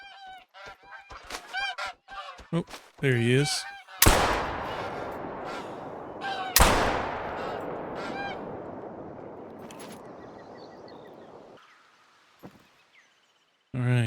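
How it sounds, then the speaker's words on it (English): Bean geese honk in repeated bursts in the hunting game theHunter: Call of the Wild, broken by two loud gunshot blasts that ring out and decay, while someone speaks briefly. "All right, here's some bean geese coming in."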